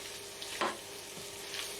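Two tablespoons of butter sizzle and fry in a pan, a soft steady crackle with a couple of brief stirring scrapes, fairly quiet and close.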